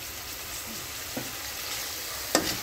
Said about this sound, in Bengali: এখন এটা কষাবো সুন্দর করে।